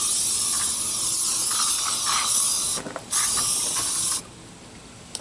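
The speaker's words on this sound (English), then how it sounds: "spray the engine in my area where I'm working with this stuff" An aerosol can sprays insect repellent around a GMC engine bay in long continuous hissing bursts, close up, with a short gap and a final burst before it cuts off.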